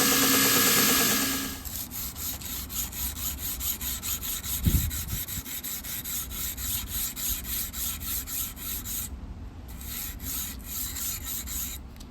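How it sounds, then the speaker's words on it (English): Hand sanding a san mai chef knife blade: a steady, repetitive rasping rub of abrasive against steel, continuing in even back-and-forth strokes after a louder opening moment, with one brief low thump partway through. "So while I'm hand sanding,"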